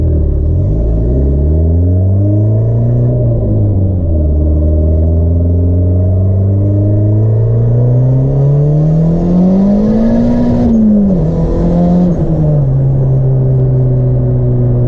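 A turbocharged Honda Civic pulls hard through the gears, its engine note climbing loud and close, dipping at a shift and rising again to a high rev before easing back to a steady drone.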